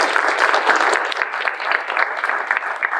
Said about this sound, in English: Let's give one more round of applause to Sarah.